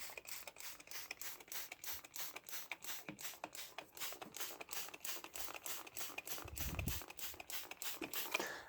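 Rapid pumping spray bottle misting a Colombian gold tegu enclosure, its nozzle faulty, giving a long steady run of short spritzes at an even rhythm, close and fairly faint.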